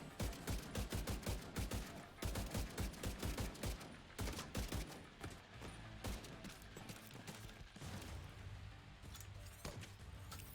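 Dense, rapid gunfire fills The Division 2 as a heavily armored enemy's plating is shot away, with loud, continuous bursts hammering almost without pause over mechanical clatter.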